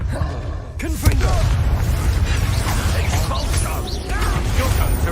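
A blasting spell in Hogwarts Legacy lands with a sharp bang about a second in, followed by a rumbling, crackling blast, while voices and magical chatter carry on over the din.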